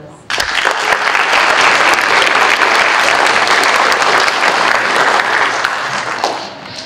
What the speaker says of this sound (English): let's give another round of applause for our most improved.